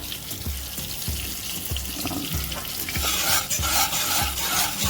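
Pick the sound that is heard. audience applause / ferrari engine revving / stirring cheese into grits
stirring cheese into grits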